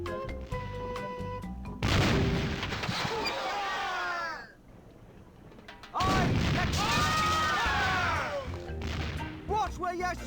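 Shooting in The Curse of Monkey Island arrives as two loud bursts of booming, crashing blasts separated by a quieter gap. Squawking, warbling game sounds ring over them, and a voice speaks during the action.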